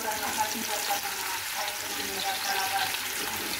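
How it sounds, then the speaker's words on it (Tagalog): Onions sautéing in hot oil for pancit give a steady, close, continuous sizzling hiss that holds evenly from start to finish. "nagigisa na tayo ng ating sibuyas"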